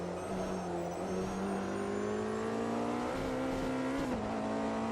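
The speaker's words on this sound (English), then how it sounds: "I like the sound of the hypercar." A hypercar engine in the racing game Automobilista 2 drones steadily at high revs, its pitch climbing gradually through the gears, with brief dips on shifts and a faint tire scrub.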